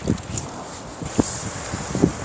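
Strong wind buffets a microphone at the Janggil breakwater in Pohang during cold-weather surf fishing, a low, ragged rumble with a few sharper gusts swelling and fading.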